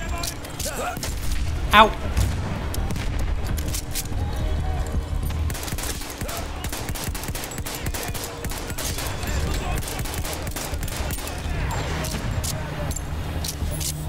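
A grenade bursts with a loud thump early on amid constant rifle and machine-gun fire during a Battlefield 1 battle. Dense gunfire continues throughout, and a player briefly cries out.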